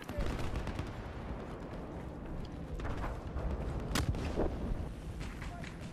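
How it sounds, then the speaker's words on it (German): Sniper rifle fire in Battlefield 4, a loud sharp crack standing out near the middle over a dense background of distant battle gunfire and rumble, with no one speaking. "Schon wieder ein Sniper."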